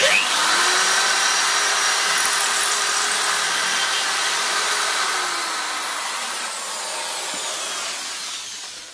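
A steady, high-pitched power drill whines continuously for several seconds drilling a hole in a Classic Mini gearbox casing, close and loud, easing slightly toward the end with no talking.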